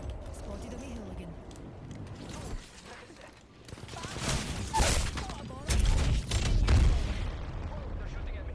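Gunfire and heavy booms fill an Apex Legends ranked fight, repeated shots and impacts swelling to loud bursts in the second half, with a voice talking over the action.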